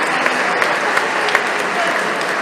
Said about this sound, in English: And just round of applause for people like Asaya and Valeria